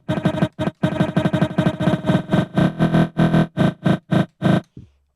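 A DJ cuts a tight loop on CDJs with reverb on crossfader B, making loud choppy chunks of music that stutter in rapid repeated bursts, then spread into longer washy hits and fade into a short tail.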